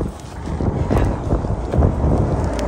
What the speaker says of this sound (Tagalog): Kaso, ang lakas pala ng hangin dito,